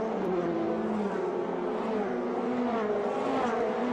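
Formula Renault Eurocup race cars pull away behind the safety car for the first race at Spa-Francorchamps, fog over the track, a steady massed engine drone with rising tones, distant and continuous throughout.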